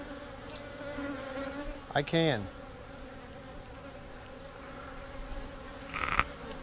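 Honey bees buzz in a steady, close swarm hum while a hive frame is lifted out for a honey check, with a brief voice speaking over the drone.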